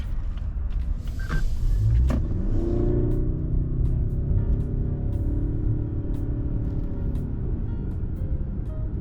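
A 2024 Lexus ES300h hybrid sedan with a 2.5-liter inline-four and front-wheel drive accelerates in sport mode, its engine droning as it rises steadily in pitch under continuous road rumble from inside the cabin.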